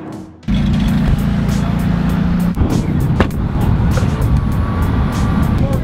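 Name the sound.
loud diesel-sounding car engine running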